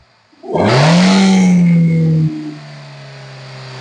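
A Hyundai Grand i10 car engine revs up sharply, roars at high pitch for a couple of seconds, then drops back to a steady idle rumble.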